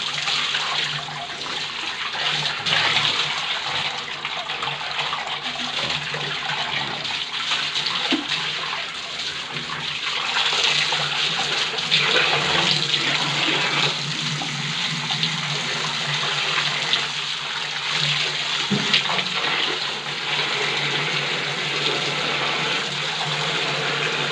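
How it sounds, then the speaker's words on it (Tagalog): Water sprayed from a garden hose to rinse dirt from a swimming pool, a steady broadband rushing hiss that carries on unbroken and fairly loud throughout, with brief knocks and shifts in the flow. "Tapos ito, sprayan nyo lang rin. Ganyan, tuwan nyo lang ng hose."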